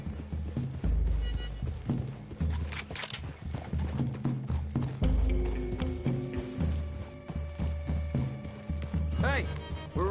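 Horses walking on a forest trail in the video game Red Dead Redemption, steady clip-clop hoofbeats with creaking tack and gear sounds, heard continuously under game dialogue.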